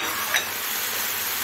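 Green peppers are added to Alexandrian-style liver sautéing in a pan, producing a steady, close hissing sizzle with a faint single clink near the start.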